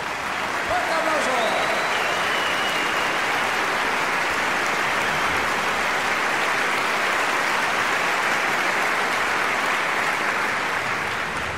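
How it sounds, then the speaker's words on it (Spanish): A New Year's Eve concert crowd breaks into loud, sustained applause that fills the hall and holds steady throughout, with faint voices in the mix. "Fuerte aplauso"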